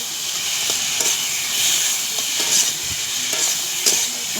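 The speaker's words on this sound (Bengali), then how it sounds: "সর্ষে বাটাটা দিয়ে ভালো করে এরকম ভেজে নেব" Mustard paste fries in a pan with a steady, close hiss and sizzle, broken by repeated light scrapes and taps of a stirring spoon.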